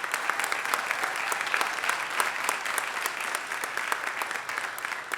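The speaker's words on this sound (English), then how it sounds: "that also deserves a huge round of applause" A round of applause for Herb Wesson in the Los Angeles City Council chamber, steady dense clapping from a sizable crowd filling the whole stretch at an even, moderately close level.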